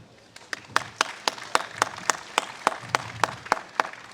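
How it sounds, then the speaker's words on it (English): Audience applause at a city band concert: sparse, distinct claps from a small crowd, spaced in a steady rhythm, moderately near and fairly quiet. "Let's give another round of applause"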